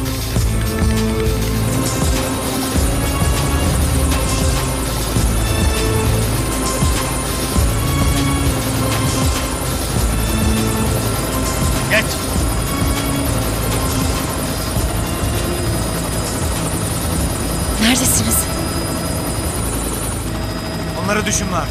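Helicopter descending overhead, a loud continuous rotor and engine roar with steady buzzing drone that fills the scene, close and unbroken throughout.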